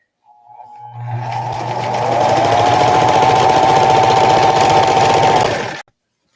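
A sewing machine stitches a quilt edge in a small home sewing space, starting up and running in one steady, close, loud buzzing burst for about five seconds before stopping abruptly, no talk.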